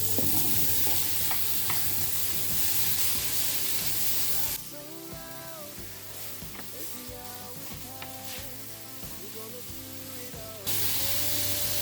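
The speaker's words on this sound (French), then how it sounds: "Je vais mettre un tout petit peu de beurre. Et ensuite, je vais rajouter mes pommes." Apples frying in butter in a pan, a steady hiss and sizzle throughout, with a quieter middle stretch where faint tonal background sounds come through.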